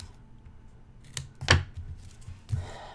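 Scissors snip loose quilting threads on a hand-quilted paper IC card, with a few sharp close cuts spaced apart, one louder than the rest, over a quiet background.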